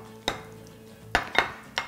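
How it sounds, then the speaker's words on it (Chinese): A spoon stirs roasted chili sauce mixed with two spoonfuls of potato starch, giving four brief clinks against the bowl, close and fairly quiet. "给它搅拌一下就好。"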